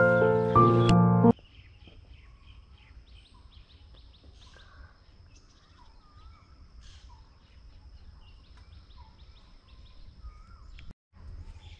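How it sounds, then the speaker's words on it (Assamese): An Asian koel calls near the Beki river, its faint, scattered cries coming from a distance against a quiet outdoor background after a brief loud burst at the very start. "একদম কুলিৰ মাত আহি থাকো"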